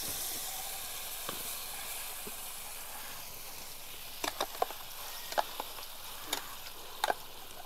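Ground lentil paste added to hot oil in a wok with asafoetida and nigella seeds, a soft continuous frying hiss with scattered faint pops and crackles growing more frequent toward the end.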